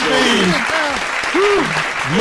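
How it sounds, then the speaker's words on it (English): Loud, steady applause from a crowd fills the whole moment, with a voice calling out over the clapping. "Y'all clap it up, man."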